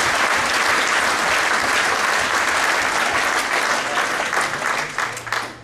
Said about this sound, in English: So a round of applause for the UMKC Inaugural.